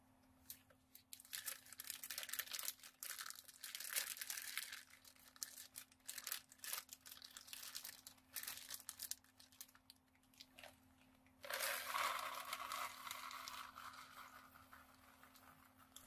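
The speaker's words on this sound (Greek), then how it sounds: "Μεταφέρουμε τα στερεά υλικά στην τσάντα μας." Solid materials being tipped and shifted into a plastic grow bag for mushroom cultivation, giving soft crinkling, rustling and pattering in several bursts with pauses between, a louder stretch of plastic crumpling near the end, over a faint steady hum.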